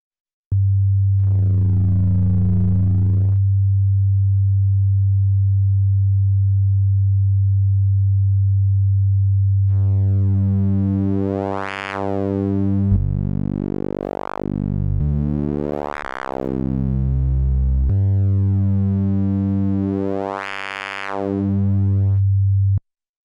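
A pure sine tone from an ASM Hydrasynth synthesizer holds a low steady pitch while bursts of mutator-warped, sliced tones sweep up and down in pitch above it, rising and falling repeatedly.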